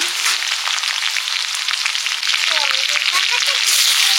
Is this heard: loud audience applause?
no